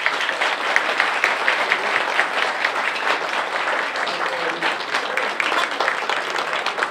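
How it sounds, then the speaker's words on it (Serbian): Wedding guests clap steadily in a dense, sustained round of applause filling the hall, even and unbroken from start to finish with no voices standing out. "Može aplauz!"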